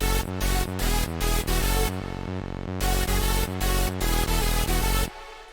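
Unprocessed hardstyle lead synth in FL Studio, loud and dense, playing rhythmic chopped chords in short repeated stabs with brief gaps, ending with a soft low tail; no talking.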